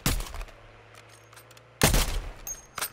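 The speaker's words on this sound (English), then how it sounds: "Somebody behind us was shooting at him." Video-game gunfire during a rooftop sniping match: a short rattling burst of shots at the start, a quieter gap, then another loud volley of several cracks near the end.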